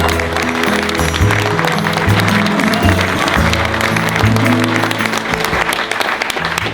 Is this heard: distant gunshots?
no